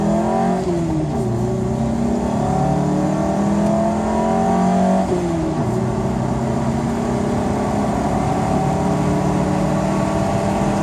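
A Plymouth Neon car accelerates hard from a fast takeoff, its engine revving loud and close with rising pitch that drops at a gear change, then climbs again steadily.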